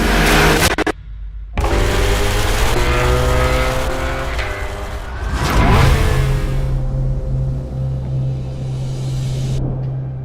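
Chevrolet Corvette race car at speed on fast laps, engine loud and close with rising revving pitch sweeps, a brief cut to near silence early, then a sustained roaring drone.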